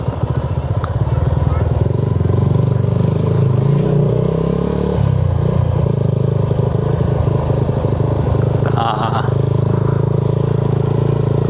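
A Suzuki V-Strom 250SX motorcycle engine runs loud and close at a camp site, a steady throbbing drone with pitch rising under throttle around the middle, a brief clatter late on and voices nearby.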